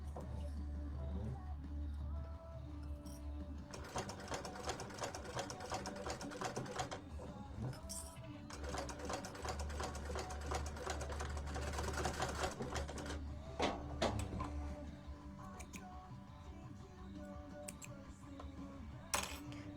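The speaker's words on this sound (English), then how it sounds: "Now that part I like to backstitch over because I want it to be really, really solid there" A sewing machine stitches forward and then backstitches in steady rapid runs of mechanical ticking, close, with short stops between passes and no talk.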